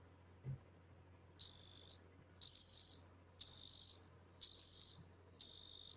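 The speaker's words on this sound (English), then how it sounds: "We can also add buzzer instead of LED." An Arduino-driven buzzer sounds five evenly spaced shrill beeps, each lasting about half a second, clear and loud against near silence after a faint knock at the start.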